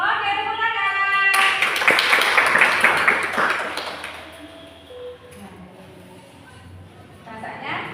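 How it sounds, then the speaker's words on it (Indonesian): A classroom of children claps hands together in a brief burst, loud at first and then fading, followed by a quieter stretch with a voice speaking. "Oke, tepuk tangan."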